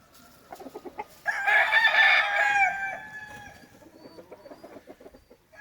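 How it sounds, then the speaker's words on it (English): Gamefowl pullets and chickens cluck in a quick, scattered rhythm, and midway a rooster lets out one loud, sustained crow close by. The clucking carries on softly once the crow fades. "Real pretty chickens."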